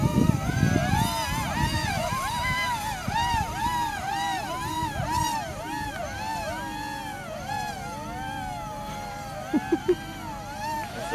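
An RC SpaceX Falcon booster model lifts off under a quadcopter outdoors, with a steady loud buzzing rotor whine that keeps rising and falling in pitch, plus low wind rumble and a few sharp knocks near the end.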